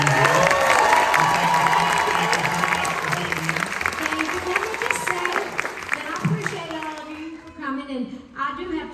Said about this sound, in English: let's give her a big round of applause for being here